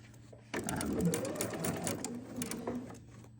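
A sewing machine stitches the gentle curves of an almond blossom quilt, starting abruptly with a steady, fast mechanical whir that runs continuously at close range, with no talk over it.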